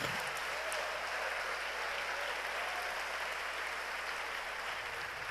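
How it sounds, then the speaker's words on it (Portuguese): A church congregation breaks into sustained applause, a dense, steady wash of clapping from many people in a reverberant hall that holds evenly for several seconds with no talking over it. "fique em pé, aplaude ao Senhor, vibre diante dEle"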